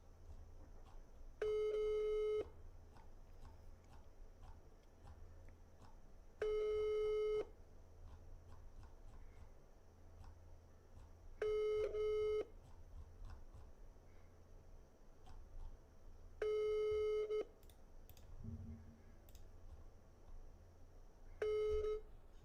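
A telephone ringback tone sounds while the call goes unanswered: five evenly spaced bursts of roughly a second each, separated by several seconds of faint line hiss, thin and tinny as if heard down the line.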